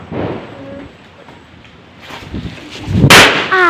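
A Diwali firecracker goes off with one sharp, loud burst, close by and set off in rainy weather, followed by a brief crackle. Quieter voices and ambient noise come before it.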